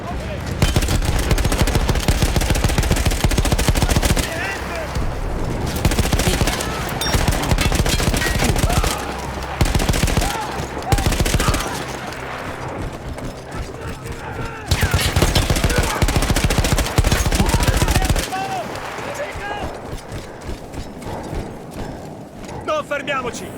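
Battlefield 1 combat at the front with Austro-Hungarian troops, made up of loud bursts of rapid gunfire and a machine gun in long stretches, alternating with quieter gaps where someone narrates.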